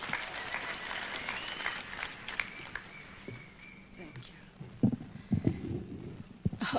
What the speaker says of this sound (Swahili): Simumpigie makofi.